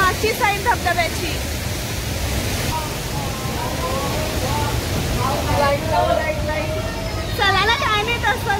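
The steady broadband roar of Thoseghar waterfall near Satara rushes continuously in the background at dusk, while several people chat over it.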